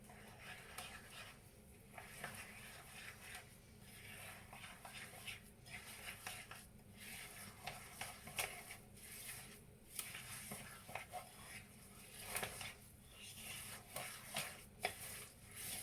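A thick, stiffening bird feeder mixture being stirred in a bowl, with soft repeated scrapes and dull knocks of the spoon at an irregular pace, quiet and close.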